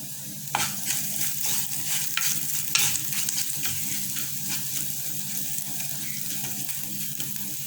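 Steady sizzling with a spoon scraping and stirring lotus root curry in a pan, repeated clinks and scrapes over a constant hiss.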